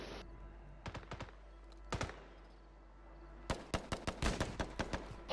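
Call of Duty gunfire comes in short bursts of sharp cracks. A few scattered shots are followed by a denser volley near the end, close and otherwise quiet.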